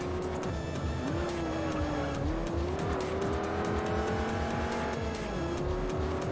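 A racing car engine from Juiced rises and falls through gear shifts across a lap, loud and continuous, with tire squeal and passing-car whooshes layered over the drone.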